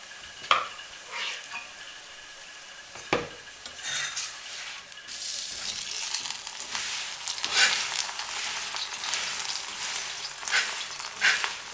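A paratha cooking on a hot tawa with ghee spread over it gives a steady, soft sizzle, broken by occasional clinks and scrapes of a utensil against the pan.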